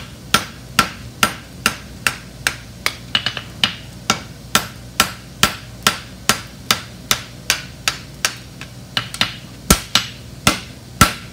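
A hammer strikes metal while seating it, sharp ringing blows falling in a steady rhythm of about two per second, close and loud, with no talking.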